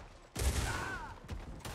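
Video game gunfire bursts in suddenly as a dense, loud volley, with sharper cracks trailing after it, and no talking.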